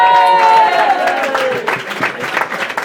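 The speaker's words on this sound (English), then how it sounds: "give him a huge round of applause" Wedding guests burst into applause at a reception, a dense wash of clapping that follows a voice's falling, drawn-out tone and carries on under light chatter.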